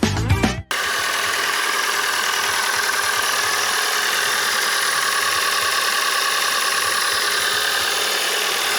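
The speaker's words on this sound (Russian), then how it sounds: "Мотор работает достаточно приятно" A Hyundai Sonata with a G4NG engine idles steadily and close by on a cold day, after a short burst of louder noise at the start, and the engine hum holds constant throughout.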